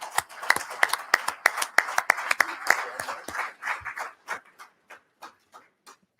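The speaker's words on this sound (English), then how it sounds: "Let's give them another round of applause." Audience applause for a panel on Army operational technology and critical infrastructure cybersecurity: a burst of dense clapping that thins out over a few seconds into scattered, separate claps before fading away.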